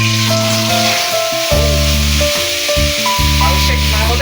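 Chicken liver, or liver, sizzling and frying in a hot pan for an Ilocano-style dish, a steady close crackle with intermittent spoon stirring and a low hum underneath.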